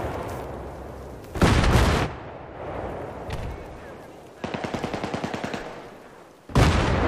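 Gunfire and mortar fire in a video game battle in a bazaar setting: loud bursts of rapid automatic fire punctuate quieter stretches, with a heavy blast near the end and faint voices underneath.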